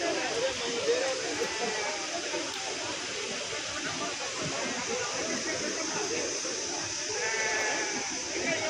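Sheep bleat repeatedly amid a busy crowd at the Kadiri livestock market, their calls rising over constant murmuring voices and general market bustle.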